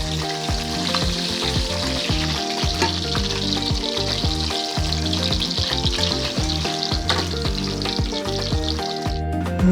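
Golden chicken pieces fry in hot oil with a steady close sizzle and crackle, while a utensil scrapes and stirs the pan in repeated rhythmic strokes.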